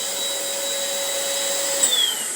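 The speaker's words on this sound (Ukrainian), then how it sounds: "якщо ми не будемо користуватися пилососом, навіть від гравера у мене буде все тут в пиляці" A vacuum cleaner runs steadily at close range, drawing off dust from a rotary engraver cutting with small 45 mm discs, a constant whining drone with a brief higher squeal near the end.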